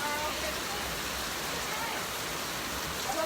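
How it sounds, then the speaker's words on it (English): Rain falls outside in Ghana as a steady, dense hiss that holds evenly throughout, with no distinct drops or breaks standing out. "When it's raining outside"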